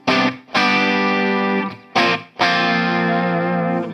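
Electric guitar chords strummed on a humbucker pickup through a Hughes & Kettner StompMan with heavy distortion, two long ringing chords each cut off sharply before the next, loud and close.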